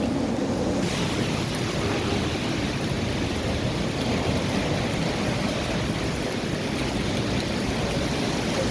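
During heavy rain and flooding in Dubai, a dense, continuous wash of rushing water and downpour holds steady and loud throughout, with no voices.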